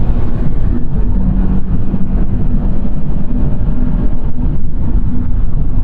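A Scion FR-S engine drones loud and steady from inside the cabin, a coarse low mechanical hum held at high revs with no break and no talk over it.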